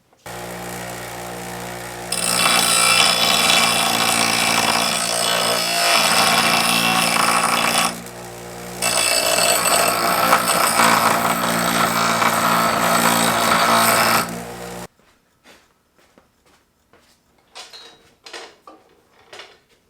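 Machining a K20 oil pump gives loud, continuous metal-shaving noise from a power tool that runs in two long bursts with a short dip between, then stops, leaving faint clinks and taps.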